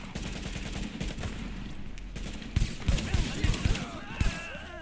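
Gunfire in The Division video game: bursts of shots crack through a dense, busy battle mix, with louder close shots clustering in the second half over a steady rumble and game voice lines.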